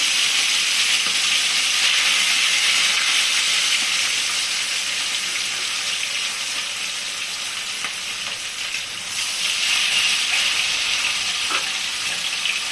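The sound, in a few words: lightly frying hilsa fish pieces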